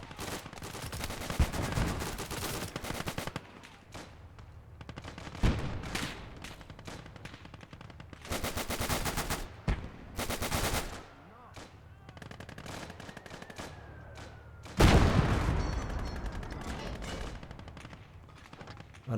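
Heavy gunfire in Gates of Hell, a World War II strategy game, with British forces in a town: loud bursts of machine-gun fire and single shots with quieter gaps between them, ending in a big blast.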